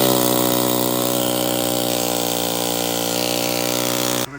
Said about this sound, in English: We're trying to cut the stud out right now